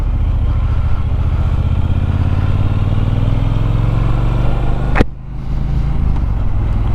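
A 2018 Triumph Bonneville T120 1200 parallel-twin rumbles steadily under light throttle as the bike gets going, loud and close, then a sharp clack and the engine note drops briefly before resuming.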